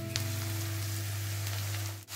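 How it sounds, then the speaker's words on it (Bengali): Sliced onions fry in oil with a soft, steady sizzle over a faint background hum, heard briefly with no talking. "পেঁয়াজটা হালকা করে ভাজা করব।"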